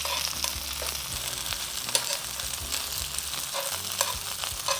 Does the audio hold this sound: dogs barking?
no